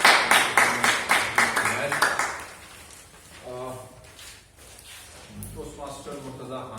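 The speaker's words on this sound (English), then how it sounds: "A huge round of applause." Clapping at a Toastmasters club meeting, a burst of claps from a small audience lasting about two seconds, then fading out as a voice begins speaking.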